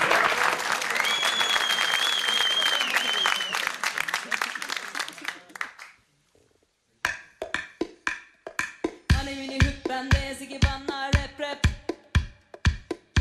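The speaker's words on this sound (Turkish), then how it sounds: "E bir alkış alalım, öyle başlayalım." Studio audience applause on a Turkish late-night TV talk show, a dense loud wash of clapping for about six seconds, then a short silence before rhythmic sharp claps return over music.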